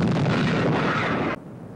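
Naval guns of a British cruiser firing at maximum range, a loud, dense roar of heavy gunfire sustained for over a second and then cut off sharply, leaving only a quieter rumble.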